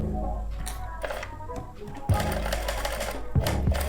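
A sewing machine stitches a blouse hook and eye patti in quick, whirring runs, pausing and starting again, close and clear, with a few faint clicks as the needle is turned.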